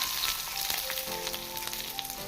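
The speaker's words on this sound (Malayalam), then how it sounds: "അല്പം ഉപ്പിട്ട് നമ്മൾ വഴറ്റി കൊടുക്കാം." Onion and curry leaves sauté in coconut oil, a steady near sizzle with a few light stirring scrapes over a short stretch, with no speech.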